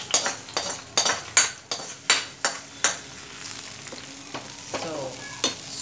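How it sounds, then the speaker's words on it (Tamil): Mustard seeds crackle and pop in hot coconut oil, tempering a moringa and avaram flower buttermilk kuzhambu; sharp, irregular spluttering bursts over a soft sizzle, close and fairly loud, fading toward the end with a few scattered last pops. "இந்த கடுகு வெடித்த உடனே"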